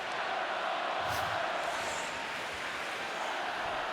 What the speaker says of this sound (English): Crowd still into it.